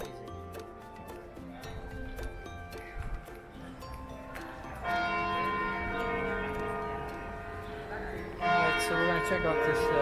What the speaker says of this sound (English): I love it when I'm filming and all of a sudden the bells start to go off.